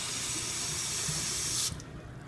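Plain water runs from a kitchen tap in a steady, close hiss that cuts off abruptly near the end, leaving a faint quieter tail.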